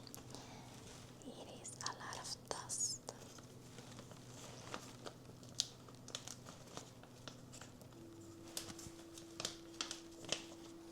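A packet of ground cinnamon is snipped and handled close up, with soft crinkling of the packaging and light snipping and tapping spread over several seconds, faint and intimate, alongside quiet whispered speech.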